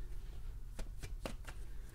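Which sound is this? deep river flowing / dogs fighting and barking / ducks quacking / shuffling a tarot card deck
shuffling a tarot card deck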